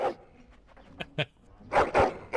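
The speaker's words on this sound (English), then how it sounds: "Excited barking, yeah." A dog in the Dragon Age: Origins video game barks excitedly in a quick series of loud yaps, with a couple of short sharp barks before two strong bursts near the end.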